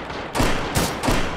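Video game gunfire bursts out in three quick, loud, close blasts about a third of a second apart, each with a short echoing tail.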